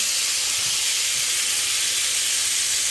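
Loud, steady sizzle and hiss of butter melting in a very hot skillet, a dense continuous crackle for gravy-making, with no voices.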